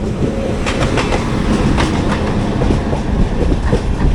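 Kacheguda Madurai Superfast Express rolling on rails, heard from an AC 3-tier coach: a loud, steady rumble with repeated clickety-clack wheel beats over the track joints throughout.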